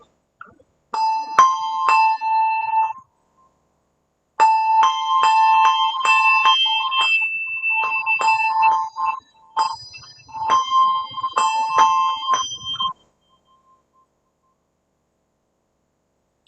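A gentle melody line played on bells, a series of clear ringing struck notes in flowing phrases with short pauses between, close and moderately loud with no talking.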